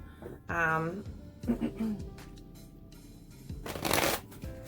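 A tarot oracle card deck is shuffled in a short, crisp riffle near the end, following stretches of a person talking and a few soft card-handling taps.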